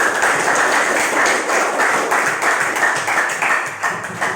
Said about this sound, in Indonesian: berikan tepuk tangan untuk kesimpulan dari ilustrasi